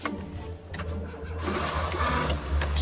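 A frozen Renault Clio's engine cranks in winter cold without catching, a continuous close churning that grows slightly louder toward the end.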